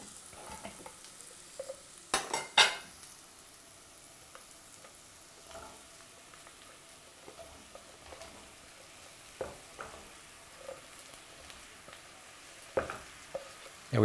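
Sliced zucchini sizzling in a hot pan with curry powder: a soft, continuous fry under a few sharp scraping and clattering bursts from a utensil, with quieter taps scattered across the rest.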